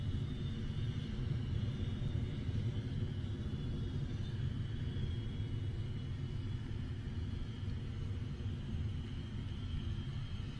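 Continuous low rumbling roar from a Rocket Lab Electron rocket's first stage during launch as it climbs past max Q, steady and distant-sounding, without voices.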